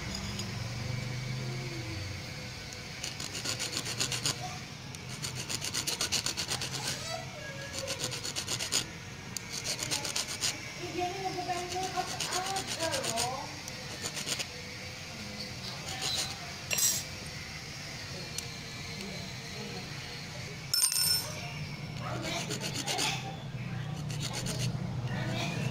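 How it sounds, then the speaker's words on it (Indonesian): Repeated rasping strokes of a hand file smoothing an inbar hop-up part, back-and-forth scraping in bursts with short pauses between. "kita rapihkan dengan kikir ya"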